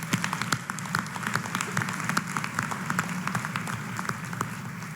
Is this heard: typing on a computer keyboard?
no